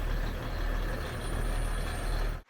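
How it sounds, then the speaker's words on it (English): A pickup truck fitted with a snow blower rolls forward, its engine a steady, loud, close rumble that holds evenly before cutting off abruptly at the end. "Truck's on, pulling forward."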